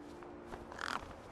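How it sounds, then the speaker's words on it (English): A crow caws in the video game Cyberpunk, a short, fairly faint raspy call over low ambient background noise. "You see all these birds all over the place?"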